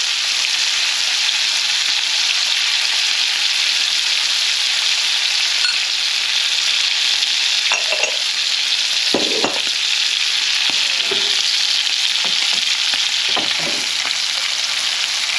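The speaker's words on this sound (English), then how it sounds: "And a bit more basting." An ex-dairy cow steak sizzling in a frying pan while being basted, a loud, constant crackling fry with occasional spoon scrapes and spatters partway through, no voices.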